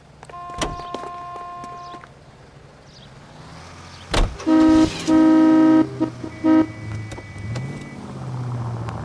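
Car in the L.A. Noire game: a door thuds shut, then horn toots blare in several loud bursts, followed by an engine revving up and driving off, close and dominant.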